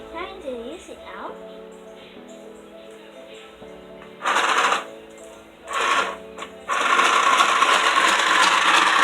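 A sewing machine stitching a homemade DIY fabric face mask, heard in several loud bursts of fast whirring, the last one running continuously, with softer quiet handling and faint background sounds between runs.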